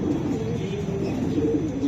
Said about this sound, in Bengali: এই যে জালালি কবুতর খাবার খাইতেছে